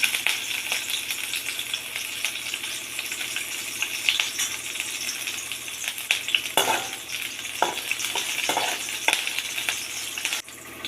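Garlic, ginger and green chili sizzle steadily in hot oil for a Tamil school lunch box dish, a dense continuous crackle with occasional stirring clinks and louder spits toward the end; no talking.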